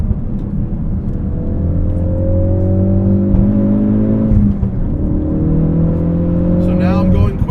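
A manual-transmission car revs during a heel-and-toe, rev-matched downshift, with a loud, close engine drone that swells, blips and falls across several gear changes and a brief whine near the end.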